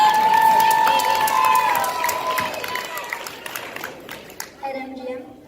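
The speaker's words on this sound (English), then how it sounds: "Clap it up." Guests at a 50th wedding anniversary party clap and cheer, with excited voices and whoops over the applause that taper into scattered claps and chatter.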